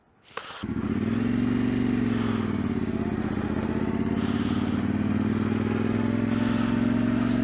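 A motorcycle engine catches about half a second in and settles into a loud, steady close-up idle with slight revving, running without pause through the rest.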